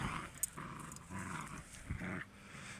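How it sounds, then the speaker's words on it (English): Pit bull puppies growl in rough play, with low rumbling growls coming in uneven bursts, fairly close and moderately loud and no voices over them. "don't worry about the growling"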